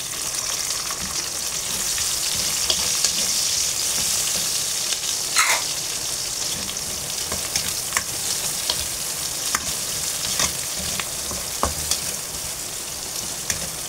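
Onions sautéing in hot oil for dinuguan, a dense continuous sizzle with occasional light clicks of a spoon against the pan.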